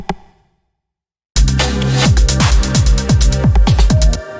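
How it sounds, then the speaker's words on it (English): Pitched rim shot scattered through a dense electronic drum pattern, crisp knocks over a driving kick groove that starts abruptly after a short isolated hit and a pause, no voices. "After that, we have this rim shot"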